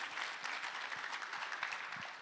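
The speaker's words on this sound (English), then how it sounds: "Give them a round of applause, y'all" An audience applauding after a keynote talk, a dense, steady wash of clapping that holds evenly throughout, heard at a moderate distance with no voices over it.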